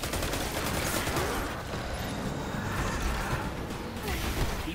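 Rapid video game gunfire from Destiny 2, Solstice of Heroes event played as a Warlock, a dense continuous stream of shots and effects filling the whole stretch at steady loudness, with no clear talk over it.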